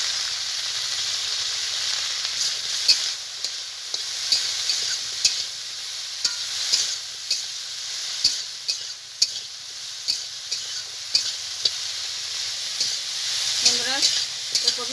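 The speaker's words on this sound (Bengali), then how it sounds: "কপিটা আমি একটু লবণ, একটু হলুদ দিয়ে ভেজে নেব।" Cauliflower seasoned with salt and turmeric fries in a pan, giving a steady sizzle with stirring clatter and scrapes throughout, close and moderately loud.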